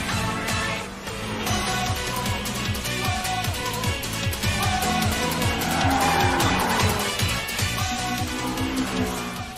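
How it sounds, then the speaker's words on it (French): Toyota AE86 with a new, very powerful engine launching hard at the start of an animated street race, its engine roaring loudly and steadily with tire squeal and skidding rising over the top, no talk. "la 86 est partie en trombe!"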